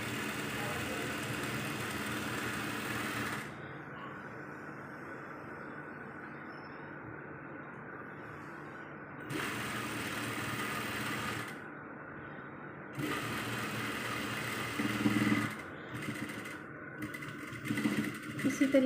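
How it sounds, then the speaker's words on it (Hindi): A sewing machine stitching the hem of a kurta, running in steady mechanical bursts of several seconds each with short pauses between them, close and fairly loud. "हम ये दामन की सिलाई लगा रहे हैं।"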